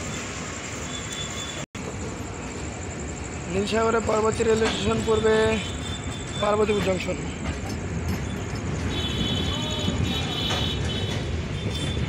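Two passenger trains, the 731 Up Barendra and the 766 Down Nilsagar, cross at Syedpur station. A continuous rolling rumble runs throughout, under a spoken announcement and nearby voices.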